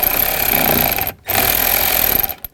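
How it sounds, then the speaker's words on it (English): A power tool buzzes loudly and close while tightening screws on a 2003-06 Infiniti G35 blower motor, two sustained bursts split by a brief pause, the second trailing off at the end. "And tighten the screws down."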